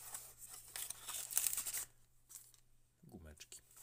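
Original Redmi Buds 3 Lite earbud packaging is opened close up, with papery rustling and crinkling that stops abruptly, followed by a brief voice and a bit more handling.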